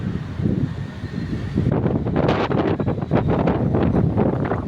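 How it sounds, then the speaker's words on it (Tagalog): Strong gusts batter the microphone outdoors in Ibaan, Batangas, producing a loud, continuous rumbling buffet that swells and thickens partway through, with no voices audible over it. "Malakas ang hangin."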